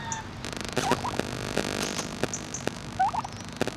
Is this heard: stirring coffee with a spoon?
no